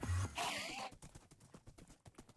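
Horse being ridden in Minecraft, a brief whinny followed by a quick, even run of soft clip-clop hoofbeats, faint and alone.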